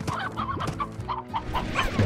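Chickens cluck repeatedly in the video game Slime Rancher, a run of close, fairly loud clucks and short squawks in an uneven rhythm with no talk over them.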